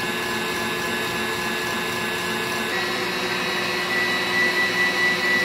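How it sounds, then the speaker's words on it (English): Electric hand mixer whirring steadily as it beats a thickening double batch of icing for a birthday cake, a continuous close motor drone that grows slightly louder toward the end. "I lifted the mixer up a little bit so you can see inside how thick it's getting"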